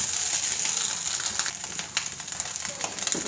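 Fish fries in hot oil until crisp, giving a continuous crackling sizzle with scattered sharp pops and spatters throughout. Nobody speaks.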